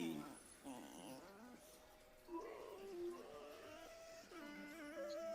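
A dog whines and growls faintly in a series of tonal, drawn-out vocalizations with short pauses between them, all at low volume.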